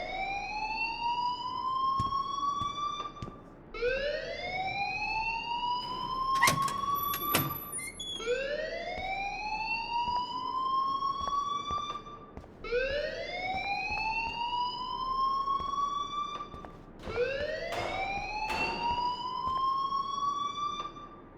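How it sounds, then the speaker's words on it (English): An electronic fire alarm in the game Life is Strange wails in repeated rising sweeps, loud and steady, cycling about every four seconds with occasional thuds between. "please turn off that alarm since that's your job"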